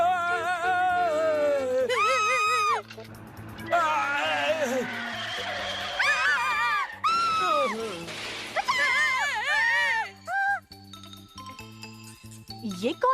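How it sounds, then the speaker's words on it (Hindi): Cartoon voices in a Hindi-dubbed Ninja Hattori episode, with shrill, pitch-sliding screams and yells rising over music and jingling sound effects, loud and close, repeating in several bursts alongside other talk. "ये कौन चिल्ला रहा है?"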